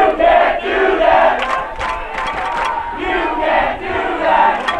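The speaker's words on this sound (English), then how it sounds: "You can hear the great Badger fans cheering on back here." A college football crowd of Badger fans at a Snow College game against ASA Miami cheers and shouts in surging waves, loud and a little distant, with roars rising and falling several times.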